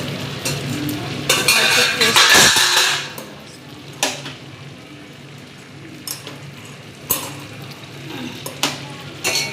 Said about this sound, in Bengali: দিচ্ছি গরম জল। গরম জল দিলাম।